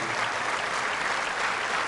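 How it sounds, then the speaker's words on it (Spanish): A church congregation breaks into loud, sustained applause during a Catholic Mass, a thick, even wash of clapping from a crowd of worshippers with no speech over it. "Fuerte el aplauso a la palabra de nuestro Señor"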